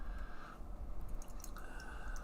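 Lemon Meringue Pie milkshake IPA from Drekker Brewing Company poured into a glass, a faint, brief liquid trickle with soft drips and wet fizzing, close and quiet, with no talking.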